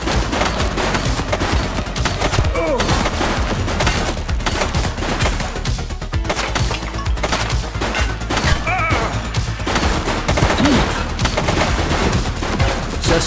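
Dense, sustained gunfire in the police game The Precinct, a loud chaotic barrage of overlapping shots that keeps going without pause.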